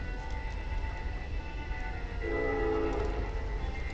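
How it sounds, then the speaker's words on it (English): Trains rumble steadily on a track behind a house in the evening, a continuous low distant roar with a faint tonal hum swelling midway, heard alone without talk. "Hopefully you guys can hear the trains in the background."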